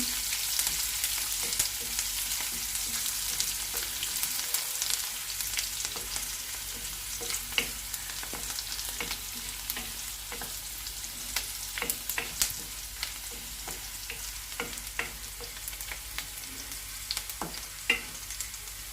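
Onion pieces sizzle steadily in hot oil for a tomato dal tempering, with a dense high crackle throughout and frequent sharp spatters and utensil scrapes, no voices.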